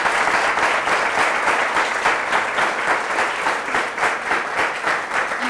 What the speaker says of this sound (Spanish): Esa mujer vale un aplauso para ella